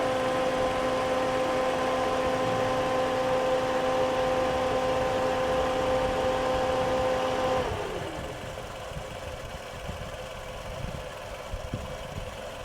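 A Suzuki Ciaz engine idles steadily with its front electric radiator fan running, a constant hum with a tonal whine. About two-thirds of the way through the fan cuts out, leaving a quieter idle rumble.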